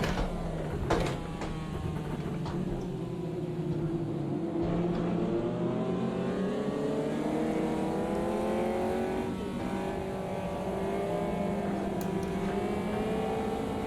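A race car engine in Automobilista 2 drones and revs continuously throughout, its pitch rising and falling through gear changes, loud and close in a right-hand drive car, with no talking.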